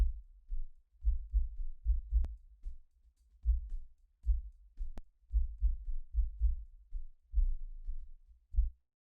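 Low, booming beat with a 40 Hz subharmonic enhancer boosting the bottom end, thudding kicks in a steady pulsing pattern with brief pauses and a few sharp clicks, close and deep with no talking.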